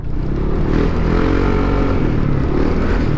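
Yamaha Nmax motorcycle fitted with a kalkal exhaust pipe runs with a loud, close, rough engine drone and crackling exhaust pops, continuous with no talking.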